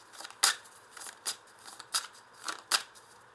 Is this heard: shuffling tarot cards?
yes